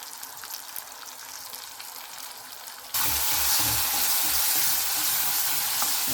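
Sliced onion drops into hot oil in a pan while cooking a Bangladeshi eel-fish (baim) curry, a quiet faint sizzle suddenly jumping to a loud, steady, close hiss that continues.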